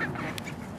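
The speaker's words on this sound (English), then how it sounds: "that duck there is scaring everybody away." A duck at a zoo gives a single short, raspy quack, close and fairly loud against outdoor background noise, with no talking.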